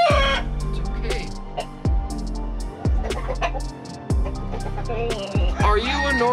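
Chickens clucking in a backyard run around dusk, a flock of fowl making repeated close, loud clucks and squawks in an irregular rhythm, with broad noisy bursts between calls and no talk.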